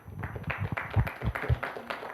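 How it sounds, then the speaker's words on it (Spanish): A small audience at a talk on Adventist preaching among Indigenous peoples gives scattered applause, soft and somewhat distant, with a few heavier low thumps and no talk over it. "Bueno, un aplauso, sí"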